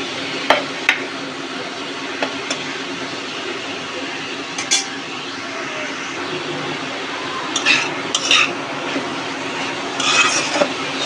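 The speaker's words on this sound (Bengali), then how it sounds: "এখন নেড়ে চেড়ে যে মশলাটা ভাজলাম আমি, রসুন, পেঁয়াজ, মরিচ, এর সাথে ভালো করে মিক্স করে নেব" Boiled greens being stirred with fried garlic, onion and chili in a pan, with a soft, steady background sizzle and a few sharp scraping clinks of the utensil against the pan.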